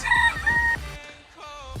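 A rooster crows loudly and close by, one long harmonic call, followed by softer clucking from nearby hens.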